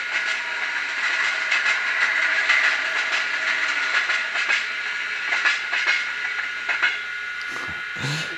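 Fleischmann N gauge DCC sound model locomotive playing a freight train passing effect: a steady, close hiss-laden rumble with faint rhythmic rail clicks, fading and changing near the end.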